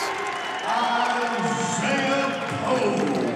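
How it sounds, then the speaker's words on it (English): A crowd at a college wrestling tournament finals cheers and roars in a rising swell, heard under an announcer's commentary. "The crowd excited for Isaiah Poe."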